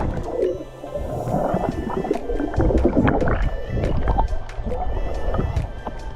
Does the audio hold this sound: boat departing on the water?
yes